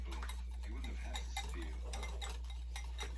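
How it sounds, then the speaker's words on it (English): Six egg yolks whisked in a good-sized bowl give a steady rapid clatter of a whisk tapping and scraping the bowl, close and continuous throughout. "take your 6 egg yolks, dump it into a good sized bowl, and give that a good whisk"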